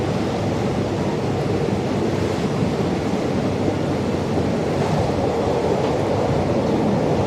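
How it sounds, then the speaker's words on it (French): Strong wind roaring and buffeting the microphone in a steady, dense rush with no voices. "it's quite windy right now, you can see the camera moving."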